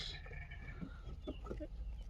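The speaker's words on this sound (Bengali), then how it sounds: "এখানে মুরগির ঘর। মুরগি," Chickens at a duck and chicken farm in Jeddah cluck in short, faint bursts over a steady low background hum, with no talking.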